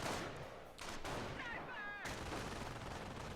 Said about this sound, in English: Sniper team continuing to open up.